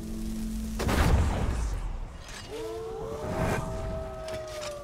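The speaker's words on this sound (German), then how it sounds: "Ich höre Wölfe." Wolves howl in the wilderness of the video game Enderal Forgotten Stories, several drawn-out rising and wavering howls overlapping at mid distance after a loud booming thud, with no talk over them.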